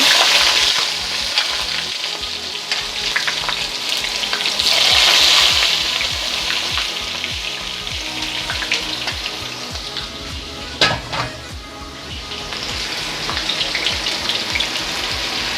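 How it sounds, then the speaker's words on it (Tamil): Salted eggplant pieces fry steadily in hot oil for an eggplant and potato curry, a loud continuous sizzle with crackles and pops, occasional clinks of a utensil, no talking. "கத்திரிக்காய் பொரிக்க போகிறேன்."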